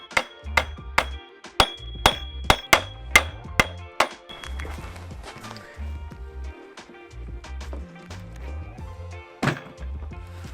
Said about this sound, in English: I'm just gonna tap these guys in.